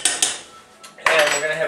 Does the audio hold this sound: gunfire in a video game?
no